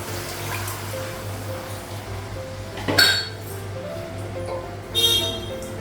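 A lid is set onto a cooking pot on a home stove, giving two clear metallic clinks a couple of seconds apart over a steady low hum of background noise.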